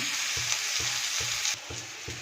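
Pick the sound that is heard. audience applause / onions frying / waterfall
onions frying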